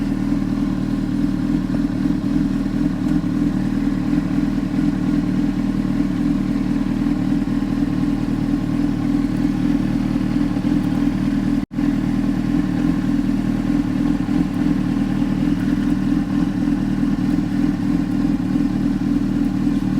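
A Honda CBR600RR sport motorcycle engine idles close up, a loud, steady low rumble with a slightly rough, clattering beat that runs without letup apart from one brief dropout.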